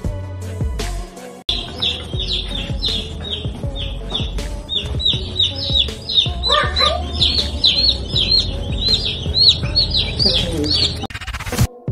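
Many baby chicks crowded in a room, a dense stream of high, rapid peeping and chirping close by, with a few clucks and thumps mixed in.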